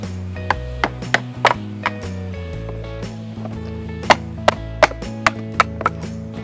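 Wooden formwork panels being pried off a freshly cast concrete post with a crowbar and hammer: a series of sharp wooden knocks and whacks, close and loud, irregular at first then quicker, over a low steady background tone.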